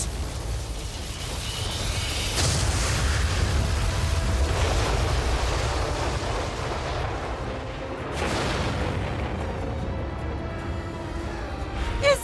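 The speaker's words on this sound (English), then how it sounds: "That's the sound of Lord Hadlar using his most powerful spell" A huge booming blast from a powerful spell in the video game Infinity Strash: Dragon Quest The Adventure of Dai, with roaring, rumbling energy that swells and surges in waves, loud and sustained, with a second burst partway through.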